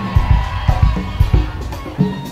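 A live concert audience at a London soca road-march show calls back in rhythmic bursts of shouting and cheering. The crowd sound is loud and comes in short repeated pulses with no single voice standing out.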